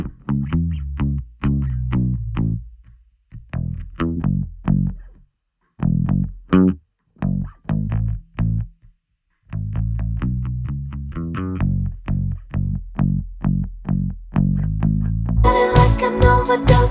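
Distorted DI electric bass through an amp track with its phase inverted by a gain plugin, playing a choppy riff of short punchy notes with pauses between phrases, loud and alone, brighter fuller band entering at the end.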